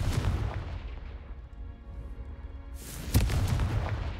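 A Confringo fire spell blasts in a video game, heavy booming rumbles close and loud, with a second sharp explosive burst following after a brief lull.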